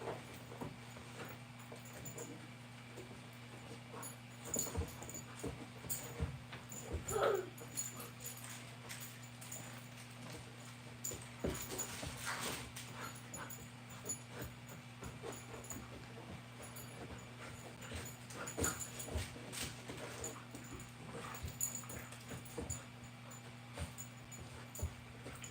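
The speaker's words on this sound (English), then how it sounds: "my dogs are just constantly making noise and playing and fighting with each other." Several dogs play and scuffle indoors, with scattered whimpers, yips and scrabbling thumps spread over a long stretch above a steady electrical hum, mostly faint and at a moderate distance.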